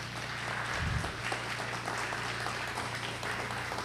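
An audience rises to applaud an economics professor at a lecture hall event, a brief, moderately loud round of clapping over a low steady hum.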